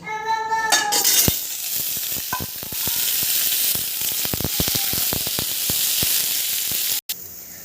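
Potatoes frying in a little oil in a pan while cooking soybean: a steady, close sizzle with scattered clicks of stirring after a short opening noise.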